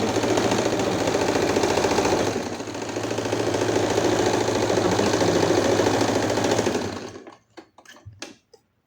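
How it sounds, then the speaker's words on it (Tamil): A sewing machine runs zigzag stitches on elastic for a puff sleeve, a steady close mechanical whir with fast rhythmic clatter that dips briefly and then stops near the end, leaving a few faint clicks. "எலாஸ்டிக் தைக்கணும். ஸோ நான் வந்து ஒரு தைக்கும்போது"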